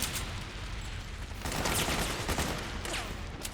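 Gunfire in Metal Gear Solid 4, a steady stream of distant rattling shots and impacts that swells louder midway, continuing as a noisy, crackling barrage.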